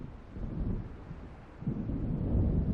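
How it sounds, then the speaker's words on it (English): Thunder from an approaching storm in the video game Alan Wake Remastered, a deep low rumble that rolls on steadily and swells louder toward the end, heard alone with no speech. "It seems there's a storm coming."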